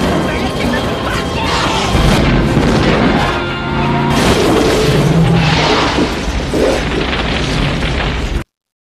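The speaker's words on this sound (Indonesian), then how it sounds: "Alhasil mereka pun berhasil meledakkan mobil itu." Car blown up in an action film, a loud sustained explosive roar with booming bursts and crashing debris spanning the whole stretch, with a brief harmonic tone in the middle, before cutting to silence.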